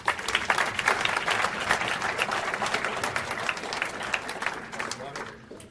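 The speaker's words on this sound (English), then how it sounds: "Ladies and gentlemen, round of applause for our seniors." Sustained applause from an audience honoring senior athletes at a university athletics awards ceremony, a dense steady clapping that fills the room and slowly fades toward the end.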